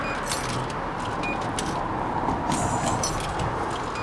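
Ten-yen coins clink and jangle as they are handled one after another, a steady metallic rattling close by over a constant roadside hum from passing traffic.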